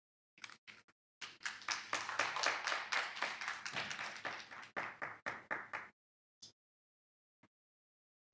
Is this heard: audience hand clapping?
yes